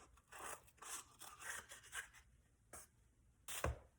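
Scissors cut a small scoop out of a tube wrapped in masking tape: a series of soft snipping and scraping sounds, close but quiet, with short pauses and a sharper snip near the end.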